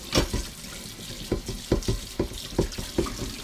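Running tap water splashes steadily while iron skillets are scrubbed with a scrubbing pad in a sink, with rhythmic scraping strokes repeating about every half second, close up and without speech.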